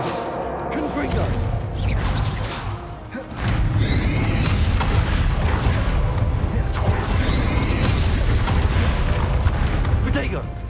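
A fiery Confringo blast spell in the Hogwarts Legacy game erupts into a loud booming explosion with whooshing swishes, then sustains as a heavy rumbling battle roar, with voices mixed into the chaos.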